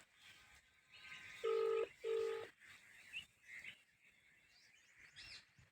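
Two short electronic phone tones sound in quick succession, the beeps of a call being placed, followed by faint background noise in a quiet rural setting.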